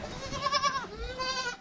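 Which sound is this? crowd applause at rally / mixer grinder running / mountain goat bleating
mountain goat bleating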